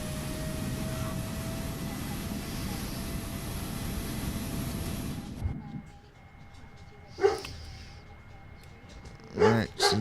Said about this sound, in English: APU is still spooling up. You can hear it right there spooling